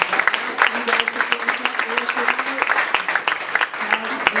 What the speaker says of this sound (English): Nice round of applause for our volunteers